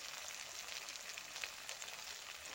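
Fish fries in a hot pan with a steady, even, crackling sizzle, close and moderately quiet, with a few faint pops and no voices.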